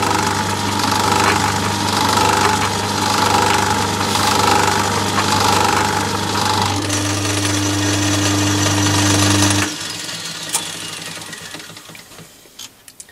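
A carbide tool is lapped on a diamond lap mounted in a lathe, with a loud, steady machine hum and grinding drone that cut off about two-thirds of the way through, leaving faint clicks and handling noises.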